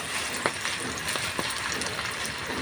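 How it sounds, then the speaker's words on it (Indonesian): Thin salted sepat fish frying briefly in oil during heavy rain, a steady close sizzle with occasional pops and light crackles. "Kita goreng sederhana gitu sebentar"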